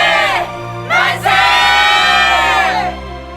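A massed crowd shouts 'manse' cheers in a reenactment of the March 1, 1919 Korean independence movement, loud and close, rising in two swelling bursts of many voices with a brief dip between.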